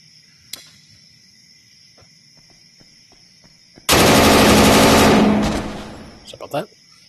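A gun in the VR game Tactical Assault VR fires one loud sustained automatic burst of about two seconds that trails off, set apart from quieter scattered clicks and thumps before and after.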